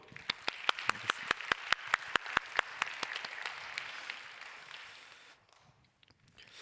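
A church youth congregation at a Sunday service applauds its cell leaders with a burst of sharp, dense clapping that builds and then tapers off within a few seconds.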